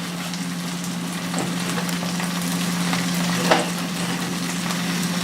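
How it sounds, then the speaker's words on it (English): Steady sizzling of tofu being scrambled in a frying pan with soft scraping and stirring, a constant low hum underneath and one brief clack near the end. "Get that tofu a good scramble there."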